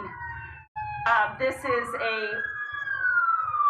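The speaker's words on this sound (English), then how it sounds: "I'm hearing more lights and sirens, more Orange County Sheriff's deputies showing up here at this scene." Orange County Sheriff's deputies' police car sirens wail at a scene, a rising and falling tone heard at moderate distance beneath someone speaking close by, with low rumble underneath.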